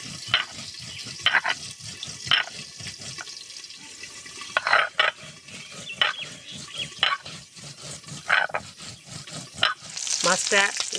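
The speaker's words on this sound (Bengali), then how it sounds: "সুন্দর করে মাছটা ভেজে নেব খুব কড়া করে ভাজবো না" Hot oil sizzles and crackles steadily as fish fries while a voice speaks intermittently over it, with a louder burst of frying toward the end.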